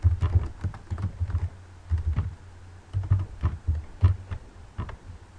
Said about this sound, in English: we type our gamer tag in the text box